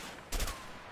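A short burst of gunfire from the game A Way Out, likely a quick three-round volley, lands as a sharp cluster of cracks. It sits fairly quiet against the game's background noise.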